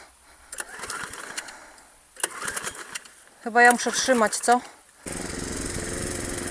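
A small petrol lawn mower engine starts partway through after people talk nearby, then keeps running with a steady, loud drone to the end.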